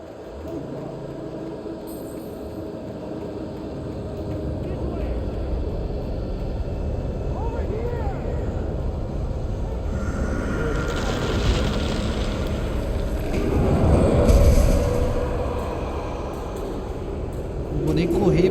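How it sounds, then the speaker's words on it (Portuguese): A helicopter goes down in Alan Wake Remastered as a low rumbling roar builds to a heavy surge near the end, set against wind noise and a voice talking. "Aquilo, helicóptero caindo?"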